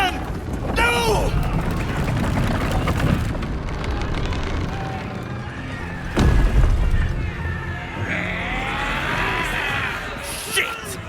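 Cannon fire in the video game Baldur's Gate 3 booms amid battle effects and background music, with one heavy blast standing out midway and several softer thuds, while voices shout throughout.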